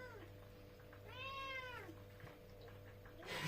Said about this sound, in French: Mon mari s'est fait attaquer par le chat, qui je pense veut sortir.